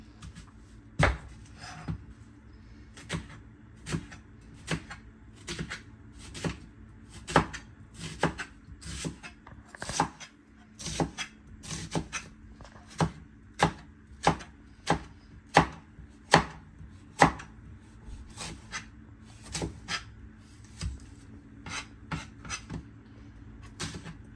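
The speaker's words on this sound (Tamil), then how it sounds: "வெங்காயத்தை கட் பண்ணி எடுப்பேன்" Onions chopped with a knife on a cutting board while cooking fish fry: a long run of sharp, crisp knife strikes at a fairly steady, unhurried rhythm, close and clear over a quiet kitchen background.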